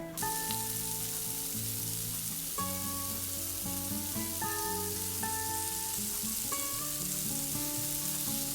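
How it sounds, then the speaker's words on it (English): Paneer and vegetable chunks pan-fry in a tablespoon of hot oil, producing a steady, close sizzle throughout while melodic background music plays. "we will pan fry the paneer and vegetable chunks"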